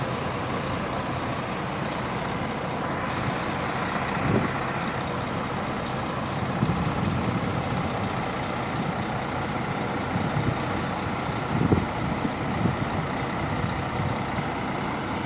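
Marcopolo Paradiso G7 1200 coach idling at an interstate bus station in Brasília, a steady low engine rumble under broad station noise with a faint distant beep and occasional thumps.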